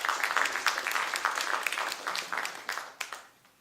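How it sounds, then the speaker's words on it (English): An audience at a school district candidates forum applauds two candidates, a moderate round of clapping with distinct individual claps that thins out and tapers toward the end. "have a round of applause for these two candidates"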